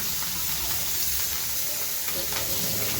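Pointed gourd (potol) fries in a pan with oil, giving a steady, continuous sizzle at moderate loudness with no clear breaks.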